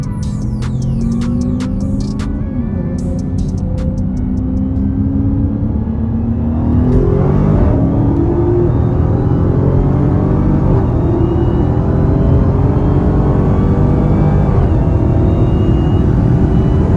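A Hellcat Charger Widebody, roughly 520 to 540 horsepower, races a GTR from a 40 mph roll, its engine a loud, close, droning hum that rises in pitch as it accelerates hard.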